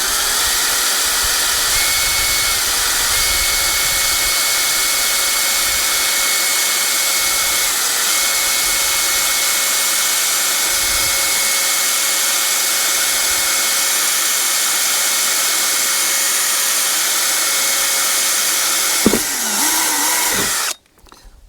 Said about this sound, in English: that's not the sharpest drill bit I've ever seen